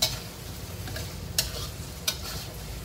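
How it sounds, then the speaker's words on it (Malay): Beef liver frying in a pan, a steady close sizzle with occasional sharp clicks and pops from stirring, no talk. "Hati lembu tu kita goreng dulu."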